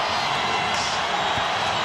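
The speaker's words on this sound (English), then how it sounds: "And they've got the crowd back in it." A packed arena crowd roars and cheers at Game 2 of the 1998 NBA Finals, Bulls against the Jazz, a continuous loud wash of voices with no break.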